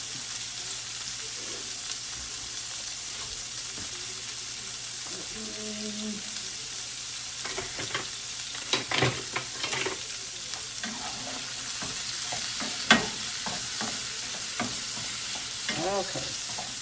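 Peppers and tomatoes sizzle steadily in a hot pan on low heat, with intermittent scraping and clacking as they are stirred, some strokes louder than others; no talking.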